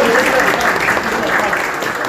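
An audience applauds shop owner Tamer at an influencer meetup in Bremen, steady close clapping with voices talking over it.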